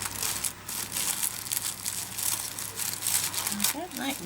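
Pretty gift paper crinkles and tears as an Easter present is unwrapped, a close, continuous rustle with papery crackles throughout.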